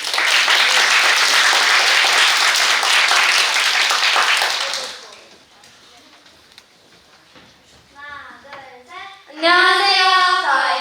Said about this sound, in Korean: 큰 박수로 발표를 열어보겠습니다.